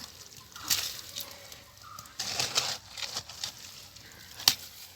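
Water being scooped from a paddy field while a pond is dug, heard as a few soft sloshing splashes spaced apart, with birds calling in the background.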